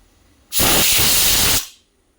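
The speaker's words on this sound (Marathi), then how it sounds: "मी याची वाफ मग काढणार आहे तिसरी शिट्टे झाल्यामुळं" Steam bursts from a pressure cooker's vent after the third whistle while chicken curry cooks, one loud close hiss lasting about a second before it cuts off.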